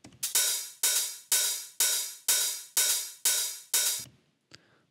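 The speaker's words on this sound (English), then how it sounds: "we actually add this other big open hi-hat and it sounds like this." A big open hi-hat in an old-school techno style pulses in a steady rhythm, each hit ringing out and decaying before the next, eight in a row then a faint tick.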